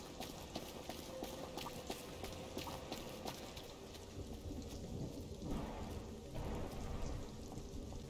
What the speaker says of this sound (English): Because it's very stormy right here.